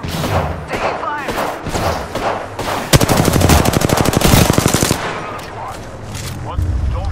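Loud, fast automatic gunfire in Apex Legends rattles out in a dense two-second burst, with game voices talking before and after.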